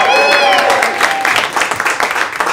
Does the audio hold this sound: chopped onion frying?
no